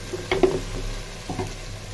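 Ginger and garlic fry in hot oil over already-browned onion for a home-cooked country chicken curry, with a steady soft sizzle under two brief bursts of stirring scrapes, close and alone.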